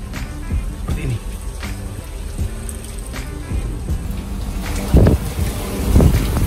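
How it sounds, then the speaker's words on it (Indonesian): Heavy rain and strong waves buffet the Pelni passenger ship KM Wilis, a steady broadband wash of rain and wind with surging swells swelling louder near the end, close and continuous. "Sekarang kondisi lagi hujan sangat deras dan ombaknya sangat kencang."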